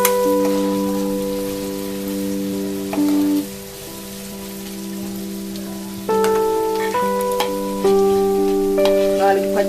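Chopped onion pieces sizzling in hot oil in a pan for emu curry, a steady close crackle with tonal background hum, a few stirring bumps, no talk.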